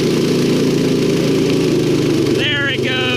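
A yard kart's small engine revs loudly and continuously while its clutch slips, with a droning, uneven mechanical roar close by and a brief squealing whine near the end.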